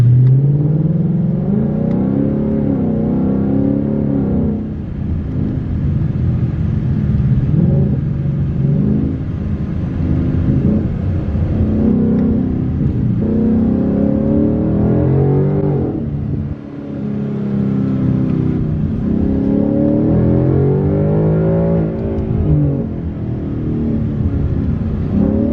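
A car engine rumbles steadily while driving to an auto parts store around the corner, with repeated swells of acceleration and revving close by, loud and continuous with no talk.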